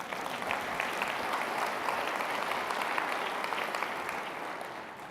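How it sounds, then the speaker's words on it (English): Conference audience applauding together, a dense, steady clatter of many hands clapping from across a large room, holding for several seconds before easing slightly, with no speech over it. "See, you got applause if I did it that way."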